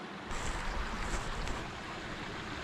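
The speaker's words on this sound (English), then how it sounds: "sitting here listening to the water, it's quite relaxing really" Gentle water lapping at night beside the shore, a soft steady wash with light wind noise, close and continuous with no talking.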